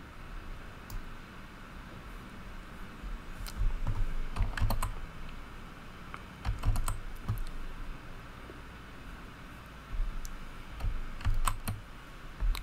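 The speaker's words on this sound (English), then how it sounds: "I'm hitting Control Z or Apple Z on the keyboard to kind of back that up" Computer keyboard keys click in scattered bursts and quick runs of presses during web design work, close and fairly quiet over a faint background hiss, with no talking.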